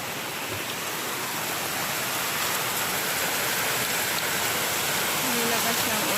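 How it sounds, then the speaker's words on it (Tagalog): Heavy, steady rain pours down continuously on a house, leaking inside, a dense broadband hiss filling the whole stretch with no pauses. "Nilakas ng ulan."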